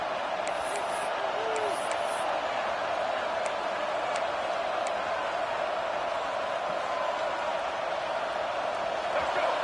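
Home crowd at an American football game roaring as the defense tries to get off the field on third down, a steady dense wash of distant cheering throughout with occasional whistles.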